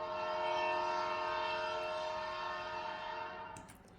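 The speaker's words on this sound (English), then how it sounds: "The little engines blew their whistles proudly." Cartoon steam engines from Thomas & Friends blow their whistles, a loud sustained harmonic blast holding steady for about three and a half seconds before fading, with no talk over it.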